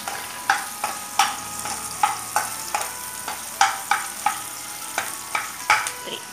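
Garlic, onion and chilli frying in hot oil, a continuous sizzle broken by a steady rhythm of sharp spatula scrapes and taps on the pan, close and clear with no talking.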